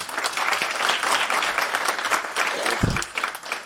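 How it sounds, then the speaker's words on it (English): A school-district audience in Lansing breaks into dense, continuous applause for Ashley, many hands clapping at once with a thump near the end. "Could you guys give Ashley a round of applause?"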